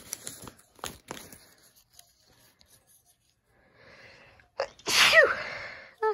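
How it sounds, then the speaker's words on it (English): Sneezes burst out loud and close near the end, a couple of sharp blasts after quieter crinkling of craft stickers and foam pieces. "I'm going to sneeze."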